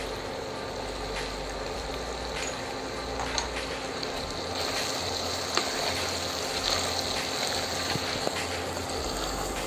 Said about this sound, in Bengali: আমি আর 10 মিনিট কষায় এর মধ্যে অল্প ঝোল দিব।